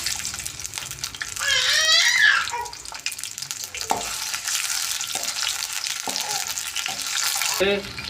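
Garlic and tomato frying in a pan for capsicum gravy, a loud steady sizzle with stirring scrapes and bright hissing bursts as the pieces hit the hot oil.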